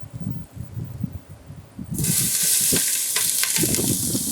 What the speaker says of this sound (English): You want the garlic infused with the olive oil. We're going to add our onions.